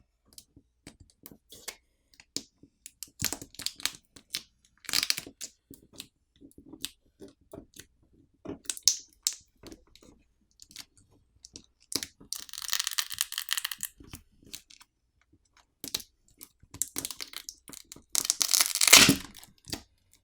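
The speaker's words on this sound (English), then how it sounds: "To remove the battery, there's a pull tab to help us pry the battery off." The pull-tab adhesive is pried away under an IQOO Z6 phone's 5000 mAh battery, giving close, sparse clicks and taps broken by several louder sticky, tearing, crackling stretches, with quiet gaps between.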